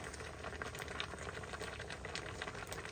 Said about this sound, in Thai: ต้มน้ำใหม่